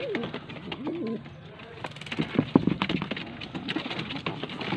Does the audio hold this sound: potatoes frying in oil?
no